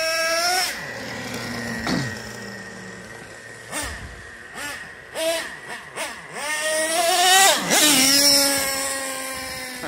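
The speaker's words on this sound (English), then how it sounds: "I'll just fire back up, see if we can't finish out the tank of gas at least." A Mr Hyde Revo 3.3 motorized bike's small gas engine runs near the microphone, revving up and down repeatedly in rising and falling whines, with a brief dip as the throttle is cut around the middle before climbing again.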